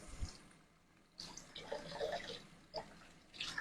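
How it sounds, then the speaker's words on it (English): Hot water running from a kitchen tap, a soft hissing flow that starts after a pause and continues in a few uneven surges, fairly quiet and close. "We're just getting some hot water."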